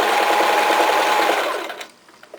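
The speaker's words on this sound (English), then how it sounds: "I stop right before I reach my pin, slide the pin out, and continue stitching." A sewing machine stitches a fabric seam on a small pillow in a rapid, even mechanical whir, close and loud, then winds down and stops near the end.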